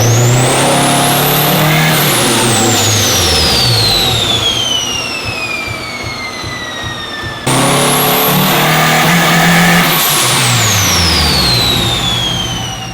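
A 600-wheel-horsepower Honda Civic engine revs hard on a dyno in two long pulls, climbing steadily to a high-pitched scream before cutting off, loud and close.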